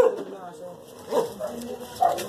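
Dogs bark outdoors at a behind-the-scenes shoot: two short, moderately loud barks stand out about a second apart over a low murmur of background noise.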